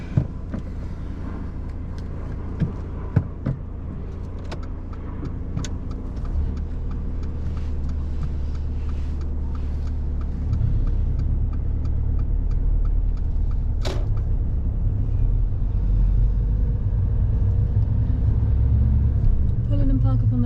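Learner driver's car pulling away on a driving test, a steady close engine hum and road rumble building gradually, with a few clicks and knocks early on.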